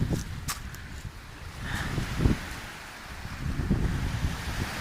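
Gusty wind buffets the microphone over choppy water lapping on Lake Coleridge, New Zealand, heard from a kayak with a low rolling rumble and a few small splashes.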